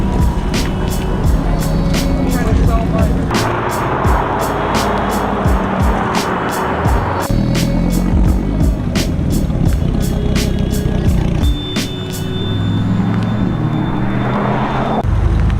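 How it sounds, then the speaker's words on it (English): A Porsche GT3 RS sports car drives close by with a loud, sustained engine roar and heavy rushing noise that fill the whole stretch, with a few voices faintly underneath. "We got Mikey with his GT3 RS. Heard him come from a mile away."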